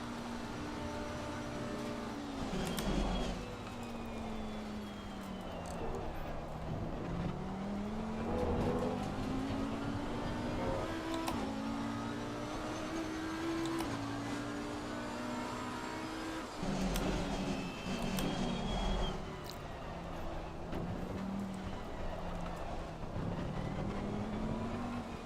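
A race car engine in Assetto Corsa Competizione drones steadily at Oulton Park, its pitch sweeping up and down as the driver works the throttle through corners, with brief louder surges and no speech.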